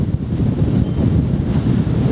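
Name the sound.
wind blowing on Snettisham beach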